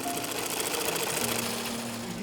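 A sewing machine runs continuously at a steady pace, its dense mechanical whirring and rapid stitching filling the whole stretch without a pause.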